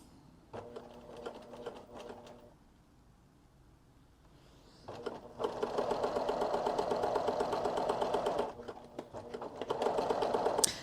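A sewing machine stitches a zipper pouch: a short run with a pause, then a louder, sustained whirring burst that briefly stops and picks up again, close and clear.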